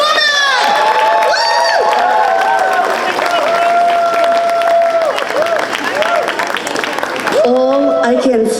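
Crowd at a Lunar New Year celebration opening ceremony cheering, whooping and applauding loudly and up close. High shouts and children's voices ring over a continuous wash of clapping.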